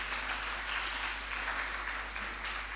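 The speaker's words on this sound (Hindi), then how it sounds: "ताली बजाओ फिर।" An audience at a Jain sermon, a Das Lakshan festival discourse by a monk, claps together in a dense, steady burst of applause that lasts the whole stretch without any talking.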